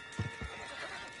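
Horse in the western video game Red Dead Redemption 2 gives a short, close neigh, two quick bursts near the start over a steady background hum.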